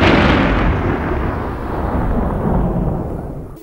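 A deep, thunder-like rumble swells loud at once and rolls on steadily for several seconds before cutting off abruptly, with no voices over it.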